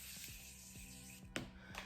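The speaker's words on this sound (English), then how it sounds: "last step is my setting spray. Of course, my Morphe Mattifying Continuous Mist Setting Spray" A Morphe Mattifying Continuous Mist Setting Spray releases a steady, soft, airy hiss of fine mist, quiet and close, with a few faint rubbing ticks.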